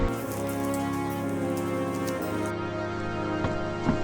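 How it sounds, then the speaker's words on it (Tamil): Rain falls steadily in rural China among Tibetan-style houses, a dense, continuous hiss of drops on surfaces with a few louder spatters and no talking. "மழை பெய்யுது."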